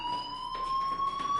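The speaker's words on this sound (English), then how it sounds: "Hey, do you hear that fire alarm?" Steady electronic fire alarm tone in the game Life Is Strange, a sustained high beeping whine with a faint pulsing rise, heard alone and moderately loud.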